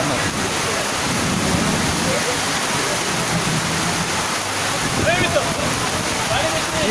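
Heavy rain pours down in Sirsi as floodwater rushes past, a dense, unbroken roar of falling and flowing water, with faint voices buried beneath it.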